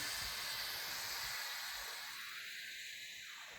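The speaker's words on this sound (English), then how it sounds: "The steam is releasing, and as you've seen, the red valve has fallen" Steam escapes from an Ausker pressure cooker's release valve while risotto cooks, giving a steady, fairly faint hiss that continues throughout with no talk.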